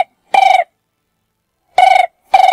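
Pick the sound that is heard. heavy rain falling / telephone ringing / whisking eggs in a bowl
telephone ringing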